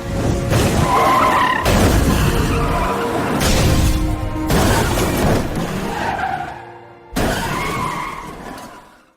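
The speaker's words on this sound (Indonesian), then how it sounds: "Akhirnya dia tidak seimbang dalam mengemudi dan mobil itu mengalami kecelakaan parah" A car skids and crashes in a run of loud, harsh tyre-scraping bursts broken by sudden cuts, ending in a brief near-silence before one last burst.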